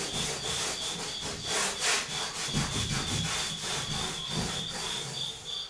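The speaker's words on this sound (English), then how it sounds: "Just scrubbing it with this old rag here." An old rag scrubs paint residue off a wooden Hoosier cabinet with brisk back-and-forth rubbing strokes, close and fairly loud in an uneven rhythm.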